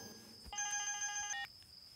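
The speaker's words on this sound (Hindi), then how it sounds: "फोन बज रहा है।" A telephone rings once in a tense film scene, a short electronic trill of about a second standing clearly over a quiet room background.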